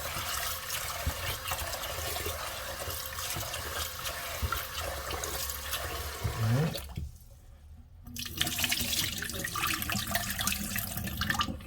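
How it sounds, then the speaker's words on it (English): Rice being washed in water for plain white rice, with a steady running, sloshing wash that breaks off briefly midway before resuming, close and fairly loud with no talking. "Then wash this rice about 3 times."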